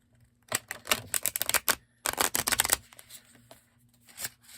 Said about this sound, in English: shuffle these and pick a card